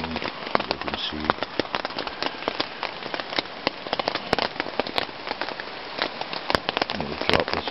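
Heavy rain pours onto a tent at a solo wild camp, a dense, close patter with sharp drop impacts hitting the fabric continuously and loudly.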